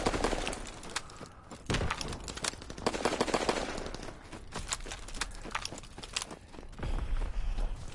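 Dense gunfire fills a PlayStation 4 multiplayer shooter match, with rapid automatic bursts and single shots crackling almost continuously and no voices.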